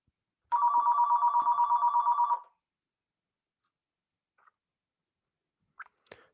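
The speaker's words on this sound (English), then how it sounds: "I'm sorry, the phone's ringing." A telephone bell rings in one long trilling burst of about two seconds, close and clear in an otherwise quiet room, followed by a few faint clicks.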